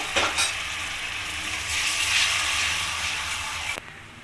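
Spice paste for vegetable khichuri fries in a pan with a steady, close sizzle and scraping stirs, ending with a sudden drop to quieter frying.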